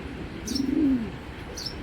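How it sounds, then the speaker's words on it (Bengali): Club pigeons give a single soft, low coo up close, a short rolling call over a quiet background, with faint high chirps before and after. "দেখেন দুইটা কবুতর মাশাল্লাহ অরিজিনাল, এগুলা ক্লাবের ঘরে কবুতর, দেখছেন।"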